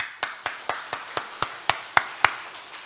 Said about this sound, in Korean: 이야, 여기서 박수 한번